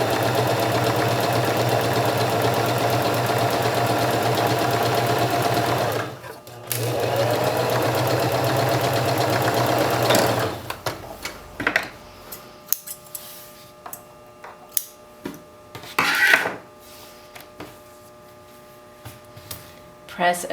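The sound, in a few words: serger sewing a seam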